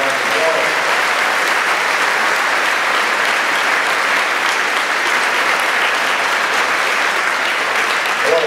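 Audience applause at a speech event in Iowa: a loud, dense, unbroken wash of clapping from a large crowd that holds steady for the full stretch.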